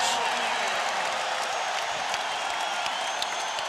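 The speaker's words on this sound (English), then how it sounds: "the Indiana crowd seems to be further energized by the Game 3 win. It's always loud here." A large indoor basketball arena crowd in Indiana, at a Lakers vs Pacers game, roars steadily, a dense wash of cheering and noise with no letup.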